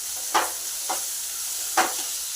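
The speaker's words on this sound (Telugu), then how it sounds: "ఆనియన్ మగ్గిన తర్వాత అల్లం వెల్లుల్లి పేస్ట్ వేసుకొని పచ్చివాసన పోయేంత వరకు మగ్గించుకుందాం" Onions with ginger-garlic paste fry in a pan for a chicken curry, a steady soft sizzle broken by three scraping stirs of a spoon, close and fairly quiet, with no voices.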